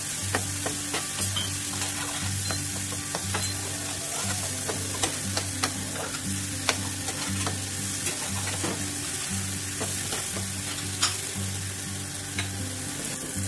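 Spice paste frying in oil in a pan for potato and pea kabab kalia, sputtering and sizzling steadily while a spoon scrapes and stirs in regular strokes, close and fairly loud, with no talking.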